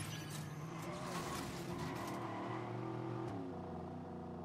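A car driving in the video game Watch Dogs, a faint, steady engine hum with the rush of rolling tires and no talking.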